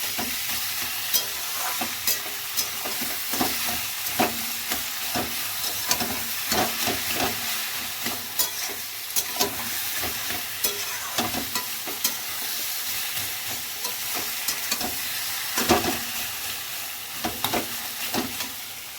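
Taro leaves cooking in plenty of oil, a continuous crackling sizzle close by with frequent scraping stirs and small spattering pops through the stretch.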